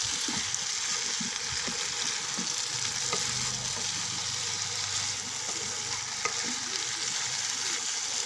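Potatoes, pointed gourd and spices fry in a pan for a vegetarian curry, giving a steady sizzle with occasional scraping stirs, close and continuous.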